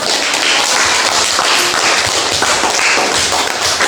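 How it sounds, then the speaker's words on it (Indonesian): Classroom applause from junior high students during an Indonesian drama lesson, loud, close, busy clapping with irregular sharp taps and thumps, continuous for a few seconds. "tepuk tangan dulu untuk"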